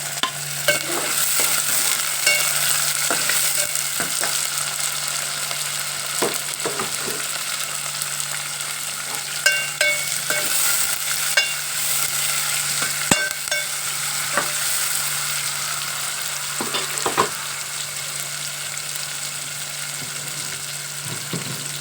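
Onions, green chillies and curry leaves stir-fry steadily in hot oil for a Malang Kada curry, with a continuous sizzle broken by frequent scraping taps of the spoon against the pan, close and alone without talk.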